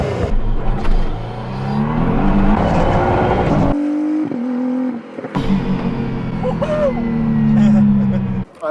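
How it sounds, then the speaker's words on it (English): Praga hypercar prototype pulling away on its first lap, a loud, close engine note rising and falling through gear changes with a brief drop in the middle, while a person talks over it. "I was strapped in and ready to go, so I lined the Praga up ready for my first lap."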